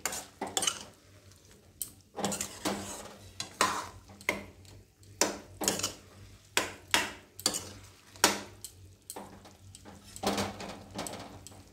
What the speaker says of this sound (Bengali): আমি কিন্তু এতে এক ফোঁটাও জল দিইনি, শুধুই মিষ্টি রসে ফুটছে।